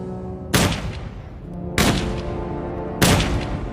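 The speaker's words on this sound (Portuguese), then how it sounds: "Então atiraram nele 3 vezes no peito e 1 vez na cabeça." Three loud gunshots ring out one by one, evenly spaced about a second apart, each a sharp crack with a short fading echo, in a documentary reenactment of a Nazi-era execution.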